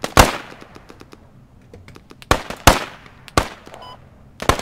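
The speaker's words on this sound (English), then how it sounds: "Who's shooting with me?" Gunfire in the military shooter game Squad, with sharp close shots spread irregularly among softer distant pops and clicks, and no voices.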